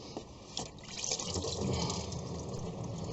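Coolant draining from a thermostat hose on a 2002 Buick Rendezvous, a faint continuous trickle and dribble of liquid with soft drips, close by and without talk.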